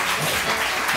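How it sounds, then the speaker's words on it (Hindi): A studio audience claps for a guest on a Pakistani morning TV show, a dense, loud burst of applause filling the whole short moment. "बहुत सही तालियां फरा के लिए।"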